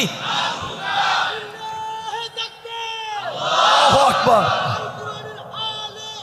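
A crowd chants slogans in unison at a political rally, the massed voices rising and falling in loud waves, with a brief lull before a louder burst of chanting.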